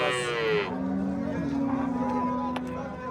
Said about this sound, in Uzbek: Sigirlarimiz.